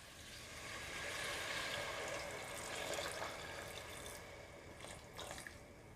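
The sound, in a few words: water poured into mutton curry pan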